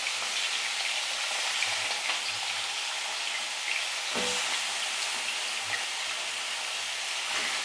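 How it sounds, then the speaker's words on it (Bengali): Meat sizzles steadily in hot oil, a dense continuous frying hiss with a few soft stirring knocks and bumps, close and fairly loud, with no talking. "এবার মাংসটাকে তেলে দিয়ে একটুখানি ভাজবো।"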